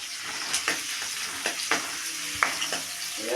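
Green chilli and ginger fry in a pan for a fish dish, giving a steady low sizzle broken by a few sharp spoon scrapes and taps against the pan.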